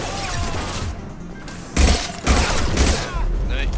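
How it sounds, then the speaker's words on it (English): Singularity-style gun in Mass Effect 2 going off in two loud explosive bursts amid game noise and a running voice. "it's basically an exploding singularity gun"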